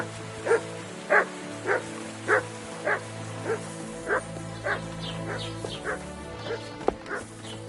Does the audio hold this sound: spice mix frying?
no